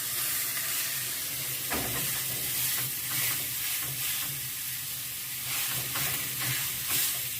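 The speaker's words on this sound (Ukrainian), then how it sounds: "Беремо обережно і отак фаршем донизу на сковорідку." Lavash rolled with minced meat sizzling as it is laid meat-side down in a hot frying pan, a steady loud frying hiss with brief louder crackles throughout, no talking.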